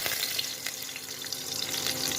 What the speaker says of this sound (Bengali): আর এইবারে বেগুনগুলোকে আমি ভালোভাবে ভেজে নেব।